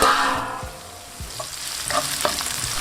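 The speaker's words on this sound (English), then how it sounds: "And when the oil is nice and hot in with your onions, mix and cook this until nice and golden brown." Onions frying in hot oil for a lamb and rice dish give a steady close sizzle, with several scraping stirs of a utensil against the pan.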